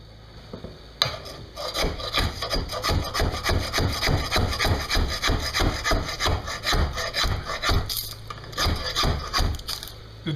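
A sharp knife cutting a pressure-glued panel off an RV bunk, a steady rasping back-and-forth sawing rhythm, loud and close, running continuously after an abrupt start.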